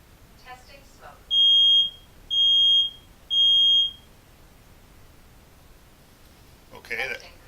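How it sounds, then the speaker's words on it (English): Nest smoke detector sounding its alarm during a smoke test: three loud, evenly spaced high-pitched beeps, each about half a second long, with faint handling noise before and a short burst of noise near the end. "Testing smoke."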